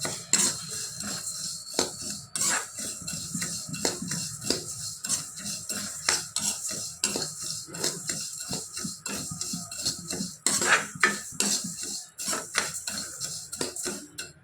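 Cumin seeds being stirred continuously as they dry roast in a pan for a morning health drink powder, with repeated scraping and clinking of a spoon against metal and soft rustling of seeds, close and steady.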